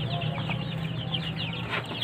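One-week-old chicks crowd a coop, a steady chorus of high peeping and soft clucks close by, continuous and busy, with no voices over it.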